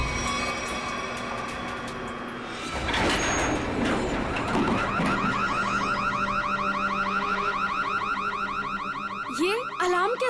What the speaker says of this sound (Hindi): ये अलार्म कैसा? लगता है लिफ्ट अटक गई है